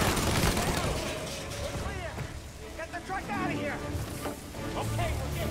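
Gunfire from a gunfight in the video game Mafia, bursts of shots and mechanical clatter layered under ongoing talk from players, dense and noisy throughout.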